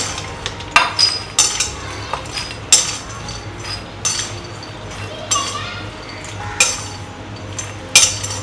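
Roasted makhana (fox nuts) being tipped from a pan into a bowl, with repeated close clinks and scrapes of metal and light rattling, no talk.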